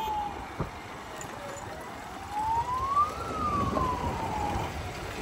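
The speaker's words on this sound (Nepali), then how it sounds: "एम्बुलेन्सलाई पहिला जान दिउँ सोल्टी एम्बुलेन्सलाई जान दिउँ पहिला" Ambulance siren wailing on a road near a busy town junction, its tone sweeping slowly up and down at moderate distance over steady traffic rumble.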